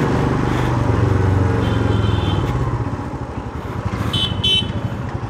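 A motorcycle rides along a road with a loud, close engine drone that eases off midway, and a few short horn toots sound near the end.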